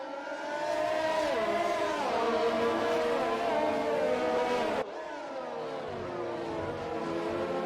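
Formula 1 cars at the race start of a Canada Grand Prix league event in F1 2020, several engines screaming loud and near as they rev and climb through the gears together, with no talk.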